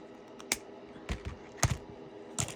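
Jewelry beading wire is snipped with cutters: four sharp, quiet clicks spaced unevenly over a couple of seconds, close by in a calm room.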